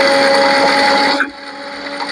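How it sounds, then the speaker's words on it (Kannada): A mixer grinder blending a spice masala paste of cloves, coconut and chillies roars loud and steady at close range, then cuts off abruptly as the motor winds down and stops. "ತೊಗೊಂಡು ಇವಾಗ ರುಬ್ಕೋತೀನಿ ಮಸಾಲೆನ"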